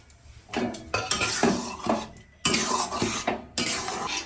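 Spoon scraping and clinking in a kadai while dried fenugreek leaves are stirred into palak paneer, several bursts of close stirring separated by short pauses.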